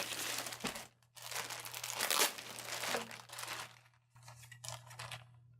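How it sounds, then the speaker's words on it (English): Plastic packaging bag around a GORUCK GR1 Heritage backpack crinkles and tears in several close bursts, separated by brief pauses, with a low steady hum underneath. "It comes in a plastic bag, so we'll get that opened."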